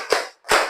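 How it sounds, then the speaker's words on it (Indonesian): A class of children clapping in rhythm, two loud group claps spaced about half a second apart, close and ringing in a classroom. "Tepuk 5."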